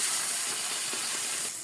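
Blended onion hitting hot ghee and flour in a pan, a loud, continuous close sizzle and hiss.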